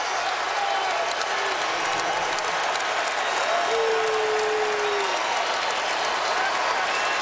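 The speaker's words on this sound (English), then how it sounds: "They've been waiting a long time to cheer like this here for the Sixers" A basketball arena crowd roars and applauds for the Sixers against the Celtics, a dense, sustained wall of cheering and clapping that fills the space throughout, with occasional whistles rising above it.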